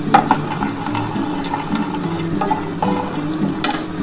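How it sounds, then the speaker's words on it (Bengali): Lentil dumplings (bori) frying in hot oil in a pan, a steady close sizzle with occasional light stirring clicks and scrapes throughout. "এবার আমি বড়িটা ভেজে নিচ্ছি"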